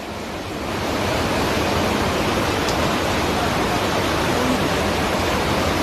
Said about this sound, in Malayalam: ഇതാ സ്കൂളിന്റെ ഇതിൽ കൂടെയാണ് വെള്ളം വരുന്നത്